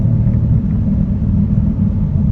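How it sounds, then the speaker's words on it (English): Low, steady rumbling and grinding drone from a car with a broken driveline under acceleration, continuous and loud, heard from inside the vehicle. "when I'm giving it gas, I hear a bunch of grinding noise"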